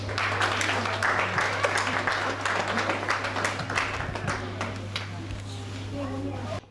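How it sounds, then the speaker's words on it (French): Loud applause from a congregation at a church service, continuous dense clapping mixed with cheering voices, close and sustained. "nous applaudissons très fort pour la gloire de Dieu"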